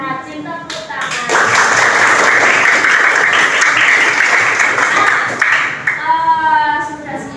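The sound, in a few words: class of students clapping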